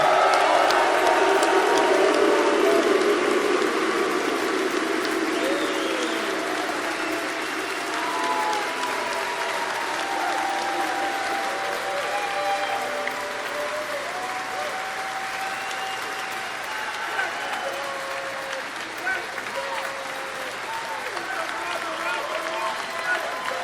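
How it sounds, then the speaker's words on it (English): A large live audience applauds and cheers for a goalkeeper at a soccer podcast all-star show, with loud, dense clapping that gradually eases while voices carry over it. "a round of applause for Atlanta United FC's number one"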